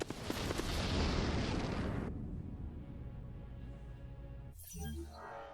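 Space battle weapons fire in the strategy game Endless Space 2: a dense, loud barrage of booming blasts that cuts off abruptly, leaving a low rumble, then a brief final burst.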